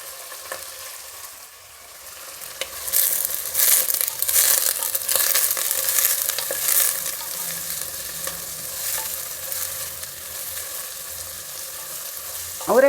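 Onion and field beans (avarekalu) fry in oil in a pan for pulao, giving a steady close sizzle with stirring scrapes that swells after the first few seconds and carries on without pause.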